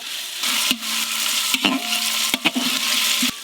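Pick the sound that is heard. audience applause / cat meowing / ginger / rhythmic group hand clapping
ginger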